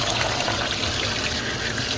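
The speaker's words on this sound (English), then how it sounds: "I got it under hot water" Hot tap water runs steadily over food being washed at a kitchen sink, a constant rushing, splattering flow with no break and no voices.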